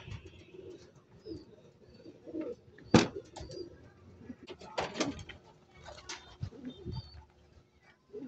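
Pigeons give soft intermittent coos while being fed a feed mix blended with honey, with a sharp clack near the middle and scattered rustling and shuffling around them, fairly faint and close by.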